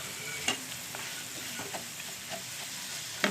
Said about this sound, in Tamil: இந்த மாதிரி கிளறி விட்டே இருந்தீங்கன்னா திக்காயிடும்